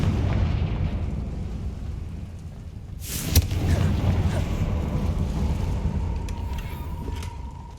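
A Confringo fire spell blasts in Hogwarts Legacy, landing as one sharp, loud explosive burst about midway through over a steady low rumbling ambience, followed by a lingering boom and faint debris tail.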